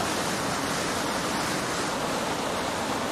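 Harku stream spilling over a small three-step limestone cascade up to 1.5 metres high, a steady broadband rush of falling water, close and unbroken with no voices.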